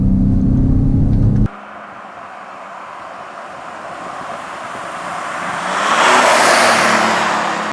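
Ford F-150 Raptor with a 3.5 liter EcoBoost V6, heard from inside while driving: a loud low engine note cuts off abruptly, leaving steady road and wind roar that swells as the truck accelerates.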